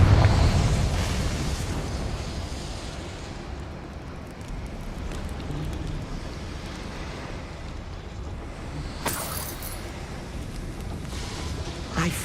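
Confringo spell explosion in Hogwarts Legacy, a loud booming blast at the start that settles into a long rumbling, roaring wash, with a sharp crackling burst later on.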